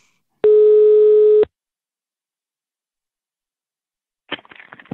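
A telephone tone sounds while a call is being placed: one loud, steady beep lasts about a second, followed by a long silence and then faint clicks and rustling.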